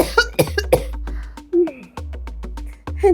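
A person coughs hard and repeatedly in harsh, uneven bursts, with short breaths and pauses between the fits, close and loud with no one talking.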